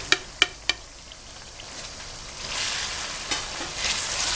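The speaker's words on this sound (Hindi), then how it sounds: "मैंने 2 मिनट के लिए मज़ीद फ्राई किया चिकन को" Chicken fries in a pan with salt, chili and spices for a chicken and tinda gravy. A few sharp clicks open a soft sizzle that swells louder and stays close, with no speech.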